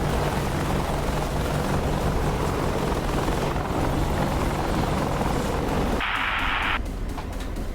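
Steady, loud drone of an Apache helicopter engine and rotor in the DCS combat flight simulator, running continuously throughout, with a brief electronic tone near the end and no talking.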